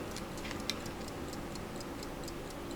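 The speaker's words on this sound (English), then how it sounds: "Hopefully you can hear it ticking." An 1867 silver fusee pocket watch ticks steadily, a fast, even run of small, faint, close metallic ticks over a low background hiss.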